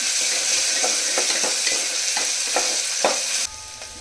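Onions sizzle in a hot pan while a spoon stirs them, sharp scraping strokes repeating every half second or so over a constant frying hiss, which drops off abruptly near the end.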